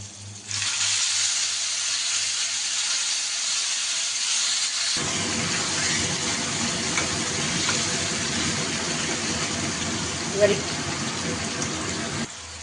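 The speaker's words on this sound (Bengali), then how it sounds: "আমি এর মধ্যে একটু কালো জিরে আর কাঁচা লঙ্কা ফোড়ন দেবো।" Nigella seeds and green chillies hit hot oil in a pan for a Bengali taro-leaf dish, bursting into a sustained, close hiss that shifts in tone partway through and carries on evenly.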